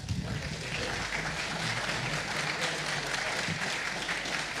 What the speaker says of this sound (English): a big round of applause for Geoff Stray